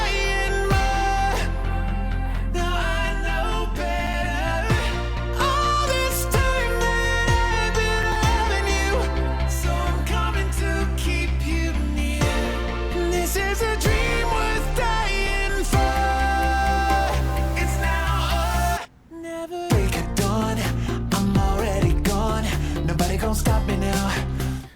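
A dense pop-rock mix with a deep synth bass layered beneath an electric bass, played loud and continuous under the full band, with a brief drop-out near the end before the music returns.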